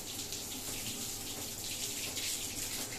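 Water from a hose spraying onto and washing a kitchen wall, a continuous hissing splash of running water, steady and close throughout.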